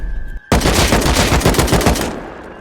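A loud, dense burst of rapid weapon fire breaks in abruptly after a brief pause and roars for about a second and a half before trailing off, a rocket launcher attack during a raid in the Rust survival game.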